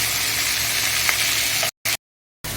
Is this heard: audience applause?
no